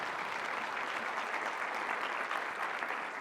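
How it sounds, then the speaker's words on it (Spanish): A church congregation applauds together, a dense, steady wash of clapping that holds evenly throughout without letting up. "Dale un aplauso al Señor."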